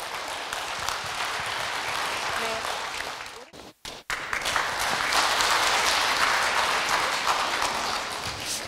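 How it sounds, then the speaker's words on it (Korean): Audience applause welcoming the Daejeon education superintendent at an anniversary event of an international humanitarian club, a steady dense wash of clapping that dips briefly to near silence midway, then resumes fuller and louder. "따뜻한 박수로 맞아주시기 바라겠습니다"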